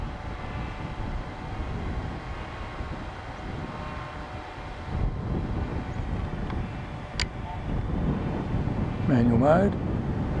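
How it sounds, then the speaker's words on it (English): Strong, turbulent wind of about 31 km/h buffets an AtomRC Dolphin Pro RC plane in flight, a steady roaring rumble with a brief whine, under a voice. "Going pretty well in this strong, turbulent wind."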